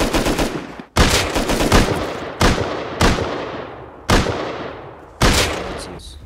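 Several loud bursts of gunfire from the survival game Rust, arriving in sharp onsets with rapid automatic fire between them, close and dominant with brief gaps, no talking.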